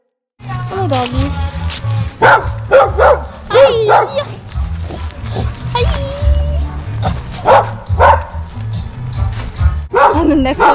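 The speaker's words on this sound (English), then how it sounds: "Hello, doggy." A small dog yips and barks in short bursts close by, mixed in with people talking over it.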